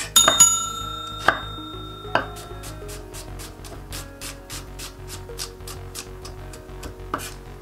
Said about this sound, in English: I'm peeling it and I'm gonna chop it and slice in half.